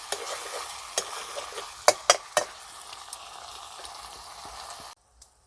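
Colocasia (taro) leaves fry in oil in a pan, a soft continuous sizzle broken by several sharp clacks of a stirring spoon against the pan, then a sudden stop near the end.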